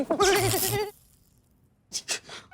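A goat gives one loud, wavering bleat close by, followed by a pause and a couple of short breathy bursts.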